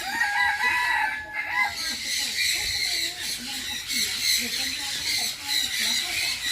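Multiple roosters crow loudly and repeatedly at a bird garden café in Thailand, overlapping with squawks and clucking from a busy flock close by.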